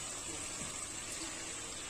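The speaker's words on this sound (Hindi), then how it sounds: "और इमली पानी को हम इसमें डाल देंगे।" Tamarind water pours into a pan of frying fish curry in a Chhattisgarh-style fish dish, a steady gushing, sizzling wash that lasts the whole moment without pause.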